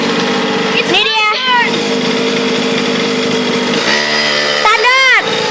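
A mini motorcycle engine revs up sharply twice, high-pitched and close, with a steady idle drone between bursts and people talking over it.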